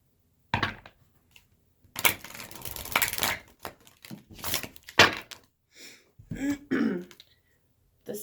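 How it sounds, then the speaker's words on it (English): Tarot cards shuffled by hand close up in a quiet room: several short papery bursts of riffling and slapping come in quick clusters with pauses between them, and no voices. "Let's do 2 more shuffles."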